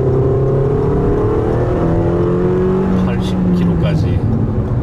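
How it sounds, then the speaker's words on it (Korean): A 2020 Toyota RAV4 with a 2.5-litre gasoline engine accelerates at full throttle from a standstill, its engine note droning steadily with rising harmonics, heard from inside the cabin along with road noise. "풀악셀을 하고 있습니다."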